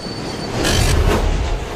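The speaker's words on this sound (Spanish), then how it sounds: "En Nueva York se han añadido nuevos trenes en la red de metro." A New York subway train rumbles past, wheels squealing and steel clattering as the cars swell to a loud, close roar midway and then hold steady.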